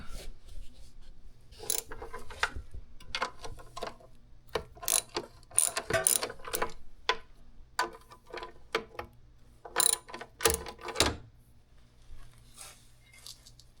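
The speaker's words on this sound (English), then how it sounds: "we can always put a wrench on that" A wrench ratchets on a snow blower being repaired: close, crisp clicking in repeated short bursts with brief pauses between strokes, no talking.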